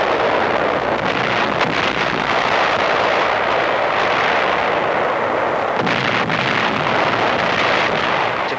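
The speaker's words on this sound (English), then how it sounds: "a heavy bombardment from the combined fleets" Heavy naval artillery from combined Allied fleets pounds the shore in WWII archival footage, a sustained roaring barrage of overlapping blasts with occasional sharper thuds cutting through the steady rumble.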